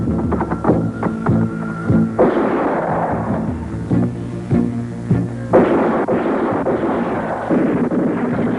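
Loud bursts of gunfire and blasts crackle through a 1983 Filipino action film scene, a dense run of sharp reports with rumbling booms and musical score underneath, no talk.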